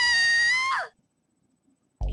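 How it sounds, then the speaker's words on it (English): Saki, a character in the visual novel Never7, lets out a loud, sustained high-pitched scream that breaks off sharply after under a second, followed by silence and then a sudden low rumble. "Saki screams at the same time as the booming roar of a wave breaks out."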